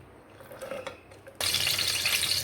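Some clicks and rattles, then a blender grinding almonds, cream and yogurt kicks in abruptly and holds a loud, steady whirring roar until the end.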